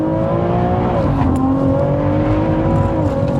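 A big-turbo BMW M140i making 730bhp drones steadily under light throttle while driving, with a loud, constant engine note that dips and rises slightly as the revs shift.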